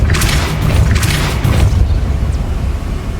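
Depulso spell cast in Hogwarts Legacy: a deep, rumbling boom with a few bright crackling bursts over the first second and a half, loud and close, fading into a low sustained roar.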